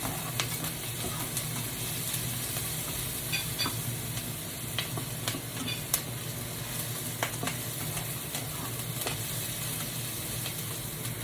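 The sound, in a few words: sautéing onion and tomato in a pan for ampalaya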